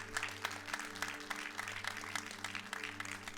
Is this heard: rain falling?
no